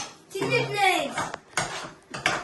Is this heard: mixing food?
yes